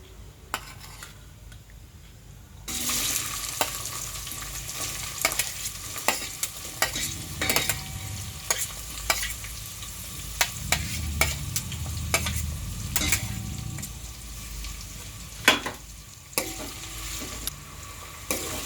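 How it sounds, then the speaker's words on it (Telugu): Chopped onions sautéing in a pan with cumin seeds for a paneer curry: a steady close sizzle broken by frequent spoon scrapes and metallic clinks against the pan, with no talking. "చూడండి ఫ్రెండ్స్, ఉల్లిగడ్డలు వేసుకొని ఇలా కొంచెం మగ్గించుకుందాము."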